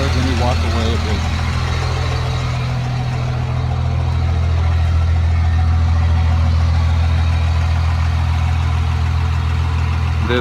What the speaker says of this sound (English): it's pretty much the before sound